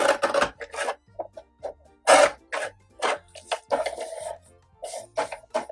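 Card paper being trimmed for a handmade greeting card, heard as a string of short, dry rasping cuts, close and fairly loud, with brief pauses between strokes.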